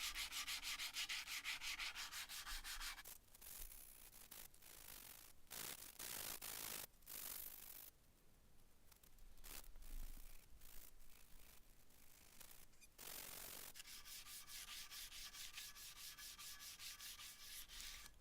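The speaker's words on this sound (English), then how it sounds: "and then finished up with some hand sanding." Hand sanding on a vintage Record 52 1/2 P woodworking vice, steady abrasive rubbing strokes close to the microphone, broken by short pauses, with no voices.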